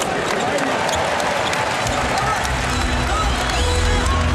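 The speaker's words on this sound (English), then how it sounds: "Crowd urging the Lakers on" Arena crowd at a 2002 NBA Finals game between the Los Angeles Lakers and the New Jersey Nets, a dense, steady roar of cheering and urging with scattered claps and squeaking sneakers on the court underneath.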